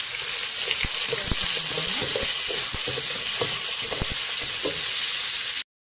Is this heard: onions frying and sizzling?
yes